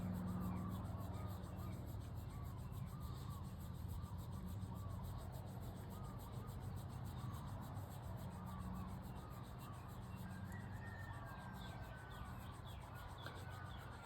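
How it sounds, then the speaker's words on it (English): Fingertips rub up and down the sides of the ears in a steady, close, soft friction during a Dao Yin face practice, continuous and even with no talking. "put them on the sides of your ears and rub up and down, creating heat in the blood vessels and the nerves"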